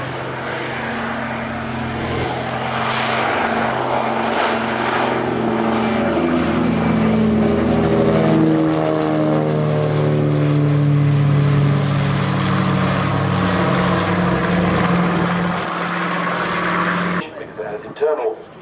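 A Catalina flying boat lining up at an airshow, its propeller engines droning loud and steady with beating harmonic tones that rise and shift, before cutting off near the end.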